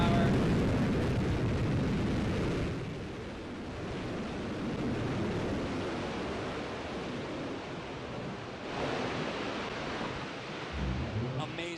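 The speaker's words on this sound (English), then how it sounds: "Another picture-perfect landing for New Shepard rocket booster" A Blue Origin New Shepard rocket booster's engine roars during its landing as a broad, steady rushing rumble heard from a distance, with a slight swell and a soft thud near the end.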